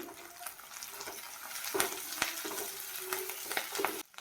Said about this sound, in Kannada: ಈರುಳ್ಳಿ ಸ್ವಲ್ಪ ಕಲರ್ ಚೇಂಜ್ ಆಗೋವರೆಗೂ ಬಾಡಿಸ್ಕೊಳ್ಳೋಣ